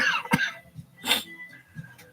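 A man coughs in two short, sharp bursts close to the mic, with a fainter throat sound between them in a quiet room.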